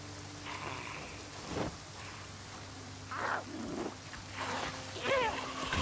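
Rain falls in the zombie survival game Project Zomboid, a steady hiss underneath several louder rushing bursts and a faint distant rumble, with some scattered sounds layered on top.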